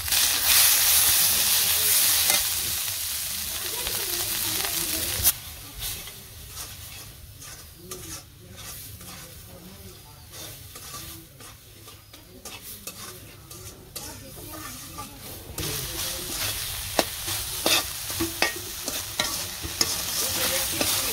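Spices and chili frying in a pan in a village kitchen, a steady loud sizzle with stirring scrapes throughout, louder at the start and swelling again toward the end.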